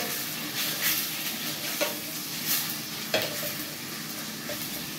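Thin beef tenderloin strips browning in a hot pan, a steady close sizzle broken by a few sharp stirring clacks, no voices.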